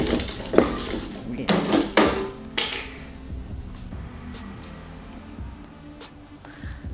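A black stainless steel spin mop is pumped, giving several metallic clanks and knocks early on that settle into a quieter mechanical whir, while someone talks over it.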